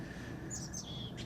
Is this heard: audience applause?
no